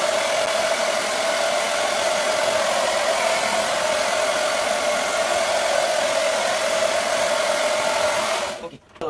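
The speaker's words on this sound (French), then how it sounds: "Je vais entendre un petit bruit. Mon petit séchoir." A small handheld hair dryer blows steadily and loudly at close range for about nine seconds while drying hair for a lace front wig, then cuts off abruptly at the end.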